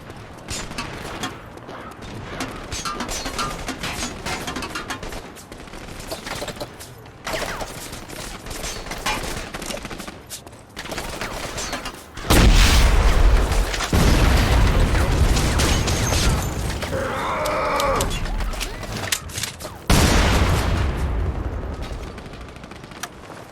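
Panzerfaust shots and explosions in the World War II video game The Saboteur, with heavy booms and bursts of gunfire over a running combat soundscape, the loudest blasts landing in the latter half.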